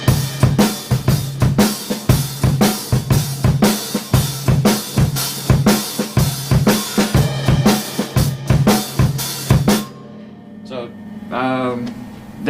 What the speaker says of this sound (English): Shuffle has that sort of a shuffle, shuffle, shuffle, shuffle feel,